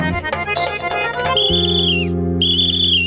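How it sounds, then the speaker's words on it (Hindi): A shrill whistle blown from inside a room rings out as a sustained high tone with a slight downward bend, pausing briefly and sounding again over a low music bed with other sounds. "ये कमरे में से सिटी की आवाज आ रही है।"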